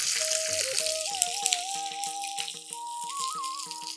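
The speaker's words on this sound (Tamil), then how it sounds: "சீரகம் பொரிஞ்சோடனே நம்ம குடமிளகாயை சேர்த்துருவோம்." Capsicum sizzling in hot oil with cumin seeds, a steady close frying hiss with light crackle running alone under soft background music.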